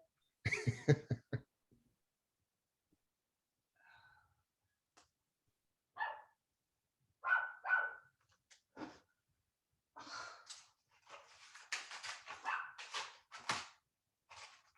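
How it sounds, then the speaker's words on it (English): A dog barks in short bursts, wanting to come inside, with a loud cluster at the start and then scattered barks and sniffing or breathing sounds that grow busier toward the end. "And my dog wants to come in."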